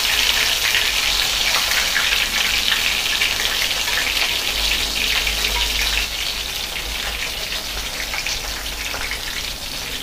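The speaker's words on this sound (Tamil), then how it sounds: "சிம்மில் வச்சுக்கோங்க. நல்லா ஃப்ரை ஆகணும்." Soya chunks (meal maker) coated with curd fry in oil over a low flame, giving a steady, close, hissing sizzle that softens slightly partway through.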